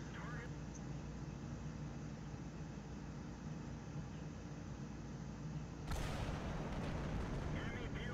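A World of Tanks tank cannon booms once partway through, a sudden loud blast that swells into a sustained roar over continuous battle and engine rumble.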